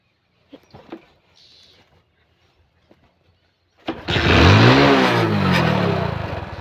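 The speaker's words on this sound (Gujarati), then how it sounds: "મિત્રો જોઈ શકો છો બાઇક થઈ ગયું છે ચાલુ" A few quiet clicks and taps, then a warmed-up motorcycle engine cranks, catches and settles into a loud, rumbling idle close by.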